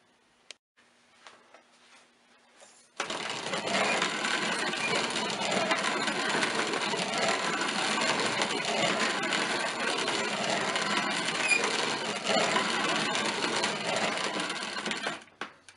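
Grain mill grinding rye grain from the hopper, starting abruptly after a quiet moment and running as a steady, close, gritty rattling grind for about twelve seconds before stopping.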